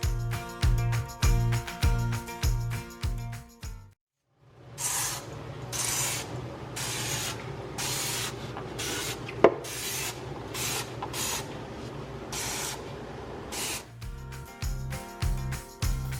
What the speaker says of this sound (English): I'm just gonna spray it on there and then I'm gonna scrub it off.